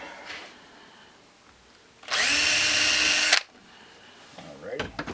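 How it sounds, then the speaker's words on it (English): Power drill boring a hole in HO scale model railroad track, one loud burst of whirring lasting about a second, with quieter handling noises before and after. "One spot I got to drill a hole."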